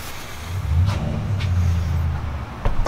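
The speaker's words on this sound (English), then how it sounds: "Oh, he's revving his motor up." A car engine idles low, then rises into a revving rumble that holds for a couple of seconds before easing off, with a few faint clicks.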